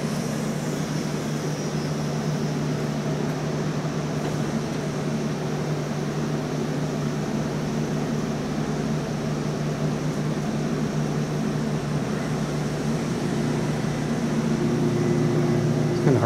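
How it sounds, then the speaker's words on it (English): Otis hydraulic elevator motor running with a steady, loud drone and low hum throughout, a fan whirring close by and blending into the constant noise. "Turn it up and listen to the motor out here."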